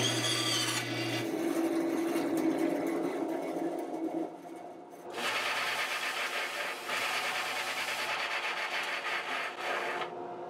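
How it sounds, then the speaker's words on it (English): A bandsaw cuts off the end of a wooden dowel in a guitar repair shop during a neck reset on a 1976 Martin D-28, giving a steady, fairly loud rasping cut that pauses briefly near the middle, with no talking. "Just cut that off in the bandsaw."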